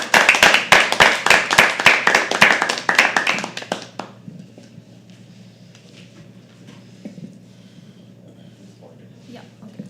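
A live audience at a poetry open mic claps and cheers as a poet walks on stage: dense, loud, rhythmic clapping for about four seconds that abruptly fades to quiet room murmur and light talk.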